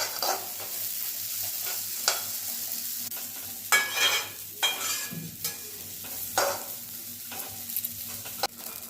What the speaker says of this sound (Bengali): সেওইগুলোকে একটু লাল লাল করে ভেজে নেব, বেশি ভাজবো না